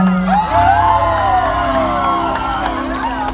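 A crowd at a live outdoor concert at a Red Cross fair in Samut Prakan, Thailand, cheering and shouting loudly and continuously, with a voice over the crowd near the start.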